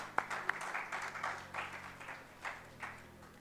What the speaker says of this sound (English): a round of applause to the wonderful team of Mama Mills